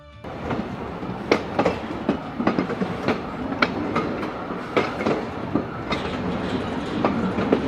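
A Leadville Colorado & Southern Railroad train climbing a mountain rolls steadily along the tracks with a constant rumble and repeated clickety-clack wheel beats at irregular intervals.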